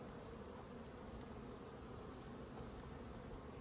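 Honeybees at an open hive during a June hive check make a dense, steady buzz that fills the whole moment, close and continuous with no talking.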